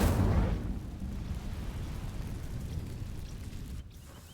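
A fire spell cast on dry vines in a video game, a sudden whooshing burst that flares loudly at the start and then settles into a low, steady crackling rumble.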